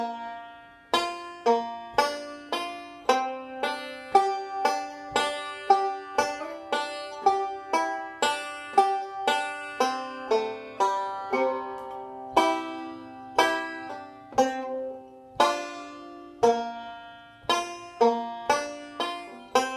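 Banjo picks out a tune slowly and alone, a steady stream of bright plucked notes with quick decays and ringing harmonics, played close and clear.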